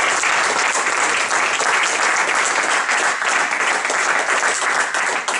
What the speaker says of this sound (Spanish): Le damos un aplauso a Horacio